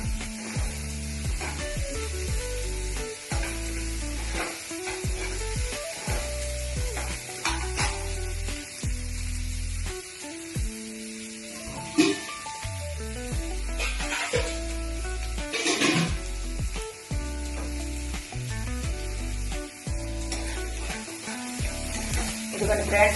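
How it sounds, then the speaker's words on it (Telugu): Onions frying in a pan for a potato curry, a steady soft sizzle with occasional stirring scrapes and clinks, close and continuous throughout. "ఉల్లిపాయలండి కొంచెం బ్రౌన్ అయిన దాకా కొంచెం వేపుకోవాలండి."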